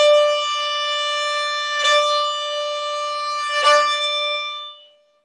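Violin played with uneven bowing, sudden bursts of energy at the frog or tip: a sustained bowed note swelling into two sharp, louder accents a couple of seconds apart before fading out, heard alone.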